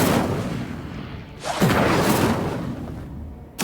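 An Incendio fire spell is cast in Hogwarts Legacy, heard as a loud fiery whoosh and burst, a second blast surging midway, and a sharp impact at the end.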